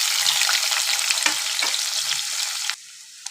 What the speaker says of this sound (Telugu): ఆనియన్స్ ఫ్రై అయినాయి